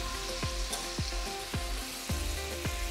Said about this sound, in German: Langsam anbraten in Butter, dass sie schön Farbe bekommen